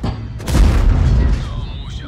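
A Churchill III tank in a tank combat video game takes a hit as an enemy shell ricochets off its armor, a sharp loud boom followed by a rumbling tail and a fading metallic whine.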